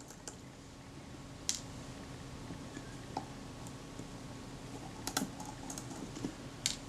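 Nickel-plated steel screws backed out of chrome-plated brass trim on the aluminium body of a Kodak Retinette type 022 camera, giving a few faint, scattered clicks and small metallic ticks in a quiet room.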